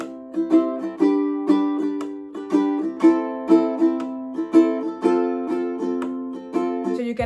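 Ukulele strummed in a steady down-down-up, tap, up-down-up pattern, each stroke a bright chord with a percussive finger tap mixed in, close and clear with no talking, ending in a final strum.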